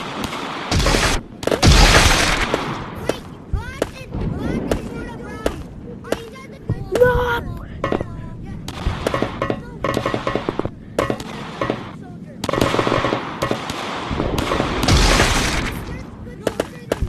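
Gunfire and explosions from a shooting video game pop and boom in irregular bursts throughout, loud and close, with a voice speaking excitedly between some of the shots.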